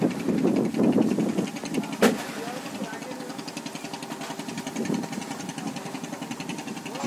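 A fishing boat's diesel engine idles and chugs steadily at sea, a low mid-distance throb with a regular knocking pulse, while someone narrates over it and a sharp knock sounds once.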